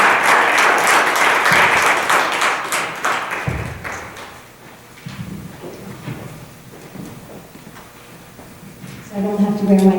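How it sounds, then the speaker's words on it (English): A crowd claps in a dense burst of applause at a school board meeting that fades after a few seconds, followed by quieter thumps, a voice, and a short musical jingle. "Give yourselves a free round of applause."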